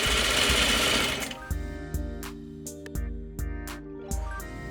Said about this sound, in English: Sew your fly piece in place using 1/2 inch or 13 millimeter seam allowance.